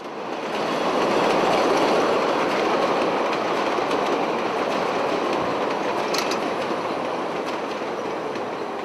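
A Chicago subway train rolls past on elevated tracks near buildings during filming of a chase sequence, a steady loud rumble with clickety-clack and brief high wheel squeals, no voices.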